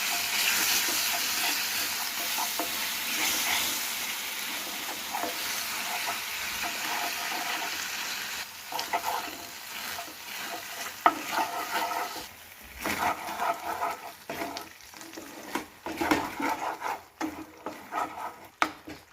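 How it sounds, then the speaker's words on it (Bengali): A raw banana peel paste cooks with a little water in a pan, bubbling and hissing softly while a spoon scrapes and stirs in irregular bursts. "একটু জল দিয়ে ভালো করে একটু কষে নিলাম"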